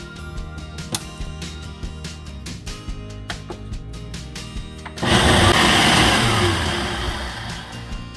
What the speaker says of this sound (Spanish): Ahora voy a licuarlo. Vamos a licuar.